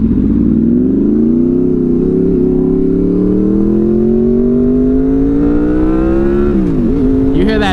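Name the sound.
Honda VFR800 motorcycle engine revving into VTEC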